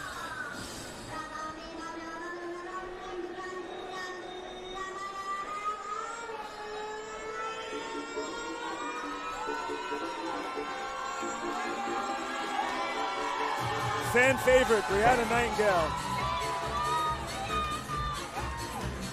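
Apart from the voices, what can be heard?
raucous crowd cheering at a fight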